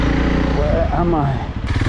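A light motorcycle rides off-road on a winter trip from London to Spain, its engine droning steadily and close throughout the short stretch, with a slight dip near the end.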